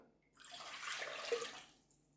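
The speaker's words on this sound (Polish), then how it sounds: "Do miski wlewamy wodę." Water pours into a mixing bowl for homemade bread dough, a short soft splashing gush lasting about a second and a half, close and fairly quiet.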